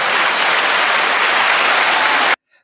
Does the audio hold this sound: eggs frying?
no